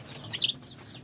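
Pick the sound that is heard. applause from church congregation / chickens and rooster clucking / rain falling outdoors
chickens and rooster clucking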